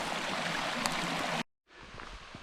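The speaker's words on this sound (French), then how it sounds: "ruisseau" Ruisseau de Tarze, a small stream in the Royans hills, flowing with a steady broadband rush, briefly cut to silence, then resuming more softly.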